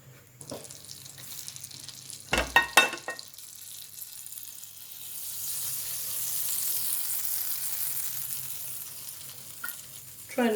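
Oil and butter sizzle steadily in a frying pan while preparing a large mushroom, cheese and tomato omelette, a soft continuous hiss building in the second half, broken early by a few sharp clatters of the pan.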